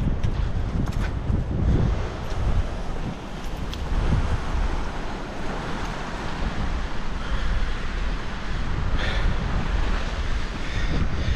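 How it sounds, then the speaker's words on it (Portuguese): Rough, churning sea waves at Praia da Ferradura in Búzios roar continuously and loudly, with wind buffeting the microphone and surges of surf rising and falling throughout, no voices. "Aqui uma área já tá mais forte a onda, hein? O mar aqui já tá mais revolto."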